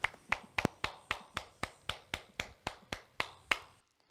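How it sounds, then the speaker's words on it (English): A lone pair of hands claps steadily about a dozen times, evenly spaced and fairly close, for workshop participants before stopping into near silence. "Let us also offer a big round of applause of encouragement and love for all participants in today's workshop."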